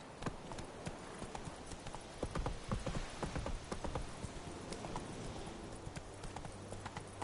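Horse hooves clip-clop at a steady trotting pace in the video game Witcher 3, a continuous rhythmic run of hoof strikes heard close with a soft outdoor ambience.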